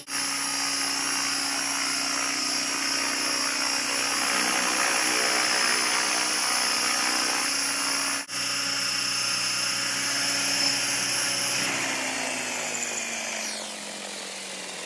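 A radio-controlled model helicopter flies with a loud, high-pitched steady whine of rotor and motor, holding close for most of the time before the pitch drops and the sound winds down at the end.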